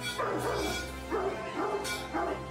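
Barks from a Fila Brasileiro, a large aggressive guard breed, come as several deep, loud woofs spaced at an uneven rhythm, close to the listener and with no other sound around them.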